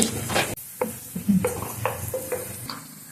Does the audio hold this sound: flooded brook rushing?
no